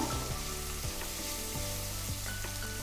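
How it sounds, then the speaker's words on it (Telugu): Ginger garlic paste fries in hot oil for an aloo beans curry, hissing and sizzling steadily while a spoon scrapes the pan in a few distinct strokes, close and fairly quiet. "2 స్పూన్లు అల్లం వెల్లుల్లి పేస్ట్, బాగా వేగనిద్దాము"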